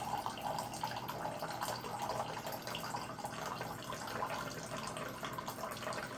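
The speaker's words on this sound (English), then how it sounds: "we're going to pull water from the internal tank, and just going to grab about 6 ounces here" Filtered water runs from the internal tank of a SimPure Y7P-BW UV countertop reverse osmosis filter into a small cup, a steady, soft trickling stream that stays quiet and even throughout, with no voices.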